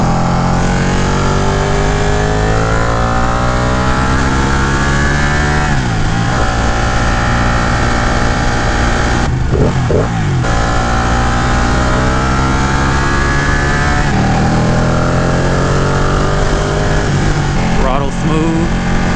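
A 2018 Ducati Panigale 959 engine pulls hard and loud from on board, its pitch climbing through gears with brief dips at shifts, wind rush mixed in and a rider talking over it at times.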